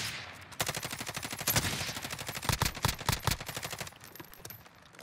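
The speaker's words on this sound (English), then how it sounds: "he's shooting someone else" Rapid automatic gunfire crackles in Call of Duty Warzone, a long burst of sharp evenly spaced shots with a few louder cracks mid-burst, fading slightly toward the end, with no talking over it.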